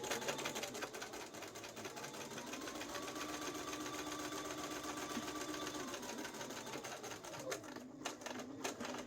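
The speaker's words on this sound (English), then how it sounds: "I'm just going to move my needle over a couple clicks and just quickly do that little hem" Sewing machine top stitching a small pocket hem, a quiet, steady, rapid mechanical whir running continuously, close up with no speech.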